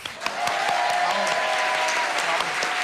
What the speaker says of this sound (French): Non, s'il vous plaît, n'applaudissez pas